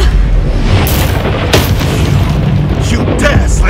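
A fiery Incendio spell bursting in Hogwarts Legacy, a loud booming blast with rumbling, noisy fire that stays dense throughout, with a few sharper pops layered over it.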